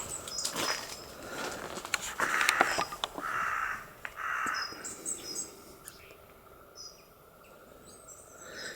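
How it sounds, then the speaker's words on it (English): Small birds chirp and call in short bursts outdoors, a few bright calls close by with others fainter in the background, fading toward the end. "All the little birds like flitting around."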